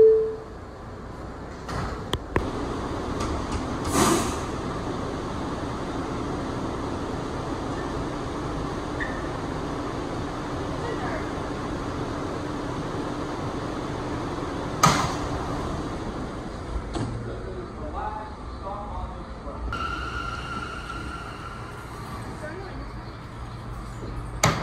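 An R179 subway train on the Rockaway Park shuttle closes its doors with a thud and pulls away, its low rumble building under an announcement voice and a few clanks and chimes.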